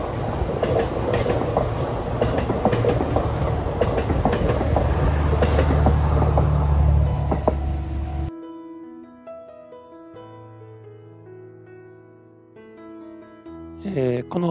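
A train in Japan passes near a railway crossing. A loud, close rumble and wheel clatter last about eight seconds before giving way to soft music.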